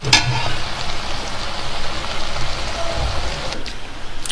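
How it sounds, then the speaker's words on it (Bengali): Boiled meat sizzles and fries in hot oil, a steady dense crackle running throughout with a sharper pop at the very start. "মাংসটা সিদ্ধ করছে, তারপরে তেলে ভাজছে"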